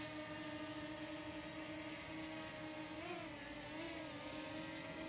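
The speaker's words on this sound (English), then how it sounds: "So this is the normal sound of the drone" DJI Mini 2 SE drone flying in cold icy conditions, a faint steady high-pitched propeller whine with layered tones that waver and bend briefly twice as it maneuvers, heard from a distance with no talk.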